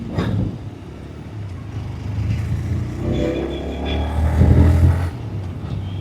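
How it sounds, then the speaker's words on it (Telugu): A 2026 TVS Raider 125 Doom Edition motorcycle idles with a low rumbling exhaust, then rises in a couple of throttle revs, the strongest swell coming late before it settles back, close and without voices. "ఎగ్జాస్ట్ సౌండ్ అయితే మాత్రం నిజంగా చాలా బాగుంది థ్రాటిల్ ఇస్తున్నప్పుడు"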